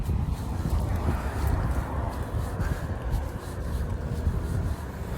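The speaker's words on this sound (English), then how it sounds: "It's windy out here." Wind blowing outdoors on a cold day, a steady low rushing roar buffeting the microphone without pause, loud and close throughout.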